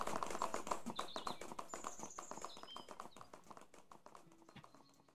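Horses in the Tavern Manager Simulator video game, a quick steady clip-clop of hooves that slowly fades, with faint game chimes and tones over it.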